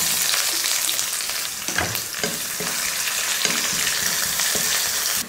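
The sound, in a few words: sliced onion frying in oil with cumin and whole spices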